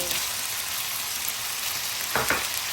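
Pork macaroni with sausage and onion stir-frying in a pan, a steady bright sizzle throughout, broken near the end by a couple of short scraping stirs.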